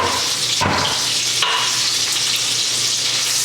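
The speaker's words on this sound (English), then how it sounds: "we're going to just gently slide all of these pieces of Brussels sprout into the oil and butter" Brussels sprout pieces sizzle in a pot of oil and butter, a loud steady frying hiss close up, with two brief sharper bursts as more pieces drop in.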